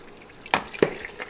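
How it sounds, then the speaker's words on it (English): Lard fat slowly rendering in a pot over very low heat gives a faint, steady sizzle, broken by two sharp knocks of stirring about half a second apart. "We are 2 hours in and there is a lot of fat that's rendering down."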